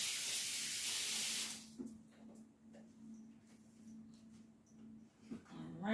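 Tap water runs steadily into a sink as a hand is rinsed in a home kitchen during cooking, a broad hiss for the first second and a half before it shuts off, leaving quiet handling noises and a low hum.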